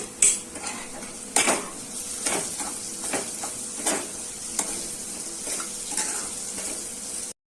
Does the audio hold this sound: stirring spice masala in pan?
yes